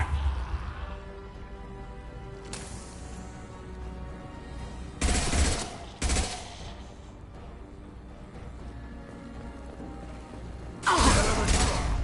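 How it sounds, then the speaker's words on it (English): Heavy gunfire in the Mass Effect 2 video game, scattered loud bursts and impacts over a steady mechanical background rumble, with a few sharp crashes standing out and faint voices underneath. "Taking heavy fire!"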